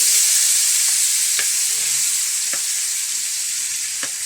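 Tomatoes frying in a pan for sautéed bottle gourd with misua and sardines, a steady loud sizzle with a few sharp spoon clacks against the pan as they are stirred.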